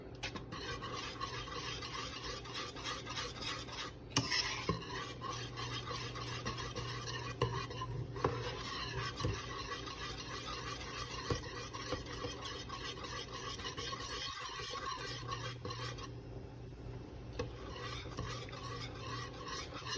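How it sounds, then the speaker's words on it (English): A thick melting cheese sauce for mac and cheese being stirred continuously in a pot for a long stretch: an even, close scraping and swishing with faint sizzle and occasional utensil taps, no talk. "we'll just continue to mix this for a few more minutes until all the cheese is just melted nicely"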